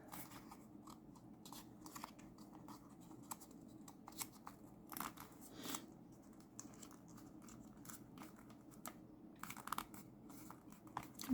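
Paper being folded and creased for a handmade steampunk cover, a soft scattered crackle of crinkling and rubbing with brief crisp taps, close and fairly quiet, no talking.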